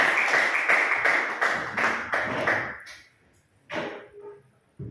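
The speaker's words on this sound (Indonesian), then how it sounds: "Ya, tepuk tangan." Brief clapping from a classroom-style audience, a handful of distinct sharp claps in quick rhythm over about three seconds, then a pause and a couple of scattered later claps, fairly close and loud.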